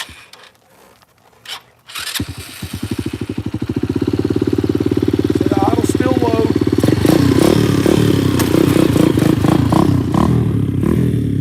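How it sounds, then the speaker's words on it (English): A mini pit bike engine starts up and revs steadily while doing slow wheelies and circles on gravel, a loud, close, continuous motor drone that rises and holds with some clatter. "see if I can't bust y'all off some slow wheelies and some circles"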